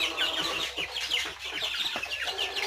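A brood of aseel fighter-breed chickens chirps and clucks steadily up close, dense overlapping peeps filling the whole stretch, with a faint low hum underneath and no talking.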